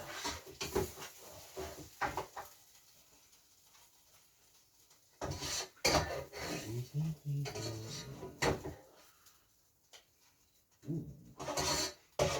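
Cauliflower cheese is spooned from an air fryer onto plates, giving scattered scraping, clinking and knocking sounds in quick bursts near the start, middle and end, with quieter pauses between.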